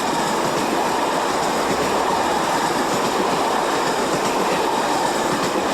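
A Portuguese Railways class 2600 electric locomotive runs at speed, giving a loud, steady rolling roar with faint rhythmic wheel clatter and no voices.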